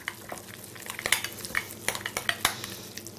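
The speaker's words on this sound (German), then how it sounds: "Kurz umrühren." Spinach and herbs stirred briefly in a pot, a run of scraping and clinking utensil strokes over a low sizzle, close and with no speech.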